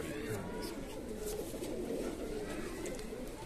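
Jhumke wale earring pigeons coo softly in low, repeated murmurs beneath steady conversation nearby, the calls faint and blending into the background.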